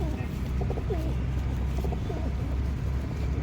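Pigeons coo and call softly in a loft, brief bird notes rising over a constant low background rumble, with no voices.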